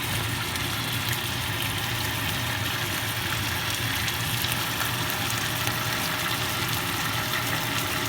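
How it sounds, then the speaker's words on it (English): A steady, even sizzle of Filipino skinless sweet longanisa sausage frying in its own oil, a continuous hiss with no pauses and no voices. "it's just gonna fry in its oil until it turns to brown"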